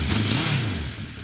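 Revving engine of a running, driving motorcycle that is not yet warmed up, a loud sustained rise and fall in pitch filling the short moment close by with no talk.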